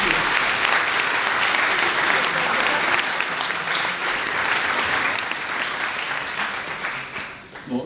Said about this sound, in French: Un tournoi d'applaudissements pour lui, mesdames et messieurs